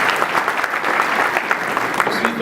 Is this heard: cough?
no